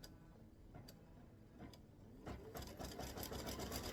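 An embroidery machine stitches freestanding lace bee earrings, a quiet steady mechanical hum layered with rapid ticking needle strokes that grow a little louder and busier toward the end.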